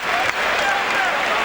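A basketball arena crowd applauds Rutgers at a men's game, with dense, steady clapping and cheering that fills the space at a loud, even level, and a voice talks briefly underneath.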